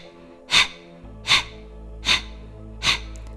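Four forceful exhales through the nostrils in a steady rhythm during a power yoga breathing exercise, each a sharp close breath of air about every three-quarters of a second.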